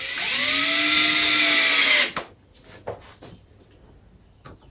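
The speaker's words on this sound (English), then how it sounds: "I can start doing up the screws" A power drill drives screws into a guitar body, giving a loud, steady whirring whine for about two seconds that then stops abruptly, followed by a few faint clicks and handling knocks.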